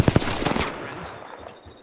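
Sharp close gunshots open with a rapid cluster of cracks in a battle royale video game, then trail off into a low rumbling tail with faint game ambience.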